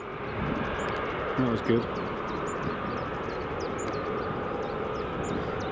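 Hainan and Ryanair airliners at Edinburgh Airport give a steady, broad engine roar at a distance, with faint bird chirps above it and a brief spoken remark.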